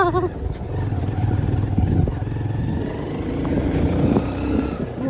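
Motorcycle riding along a road on the way to a dam, a continuous loud engine drone with wind rumble throughout, voices talking faintly beneath it.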